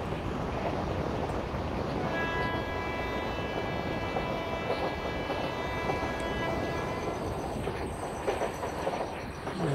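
Kozhikode–Trivandrum Jan Shatabdi Express in a train simulator game on the Kerala route, a steady rumbling roll of the train with a sustained tonal whine partway through, continuous and fairly close.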